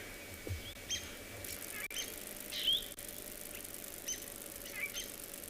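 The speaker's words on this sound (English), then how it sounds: "Isn't it nice to just sit here and listen to the birds?" Birds at sunrise on an African safari, faint scattered chirps and short calls well in the distance over a quiet, low outdoor hum, with a brief brighter tweet near the middle.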